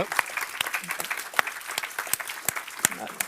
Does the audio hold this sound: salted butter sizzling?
no